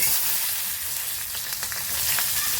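Cumin, mustard seeds and chilies sizzle in hot oil for kande pohe, a loud, dense, continuous crackle with small pops scattered across it.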